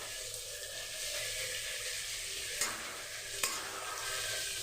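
Chicken pieces frying in a pan for a masala dry chicken, a steady close sizzle with stirring scrapes and two short sharp clinks of a utensil, no talk.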